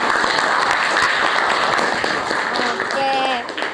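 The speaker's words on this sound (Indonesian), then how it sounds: "Oke, tepuk tangan dong." A school class in Indonesia applauds with dense, steady clapping that tapers off near the end as a voice starts speaking.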